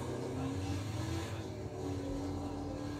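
A car engine drones steadily while driving in the Fortnite video game, a moderate, continuous motor hum with slight shifts in pitch, heard with occasional game sounds and a voice over it.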